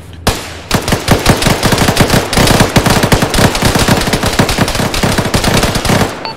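Loud, sustained automatic suppressing fire on a bunker in a military video game, a rapid, steady rattle of individual shots continuing for several seconds after a single opening crack.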